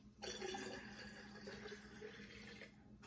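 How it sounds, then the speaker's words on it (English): Sparkling mineral water is poured into a punch for about three seconds, a soft, steady splashing and fizzing stream heard close up and quiet. "We're gonna add in 3 cups or 24 ounces of sparkling mineral water"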